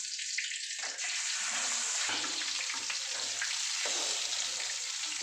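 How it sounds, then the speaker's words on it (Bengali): Koi fish frying in hot oil produce a steady, hissing sizzle close by, even in level from start to finish, with faint low bubbling underneath and no voices. "এই যে আমি মাছ দিয়ে দিলাম। এই যে আমি এরকম করে ভেজে নিয়েছি।"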